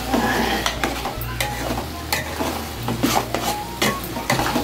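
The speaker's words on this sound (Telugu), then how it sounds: "మన కర్రీని అయితే ఒకసారి కలుపుకుందామండి" Aloo kurma curry with eggs in a thick gravy being stirred in a pan, with repeated scraping utensil strokes over a constant sizzle.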